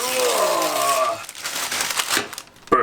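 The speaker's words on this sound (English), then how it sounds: "Baking paper." Baking paper is crinkled and rustled over a baking tray in a home kitchen while chicken and potatoes are prepared for the oven. A brief voice opens, then irregular crackling, crumpling bursts follow up close.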